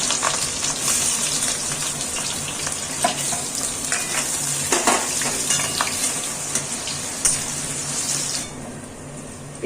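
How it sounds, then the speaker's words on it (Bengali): Onions sizzle and fry in hot oil in a pan after potatoes were fried in it, a loud continuous crackle with occasional stirring clinks of a utensil, tapering off at the end. "আমি একটু পেঁয়াজ ভেজে নিচ্ছি এই তেলের মধ্যে"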